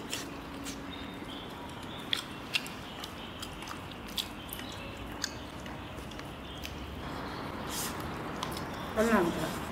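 Thick slices of shaobai, Sichuan steamed pork belly, chewed during lunch on a construction site: close, soft, wet mastication and occasional bites over a steady noisy background.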